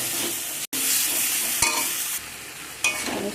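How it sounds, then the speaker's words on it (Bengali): Spices and tomato being sautéed and stirred in a pan while cooking broccoli, a steady loud sizzle with scraping stir strokes and a brief break partway through, with no voices. "আমি সব মশলাটা আমি ভালো করে কষিয়ে নিচ্ছি"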